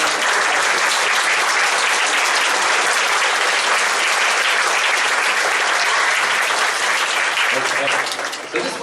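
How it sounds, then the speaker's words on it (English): Loud, dense audience applause fills an orchestra concert hall, steady and sustained throughout before tapering slightly at the very end, with faint voices mixed in. "So a huge round of applause for Miss Sharon"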